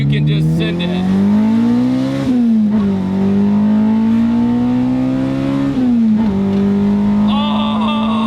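A Honda Civic fitted with an Integra Type R engine swap revs hard and close, its loud engine note climbing, dropping between shifts and climbing again for several seconds.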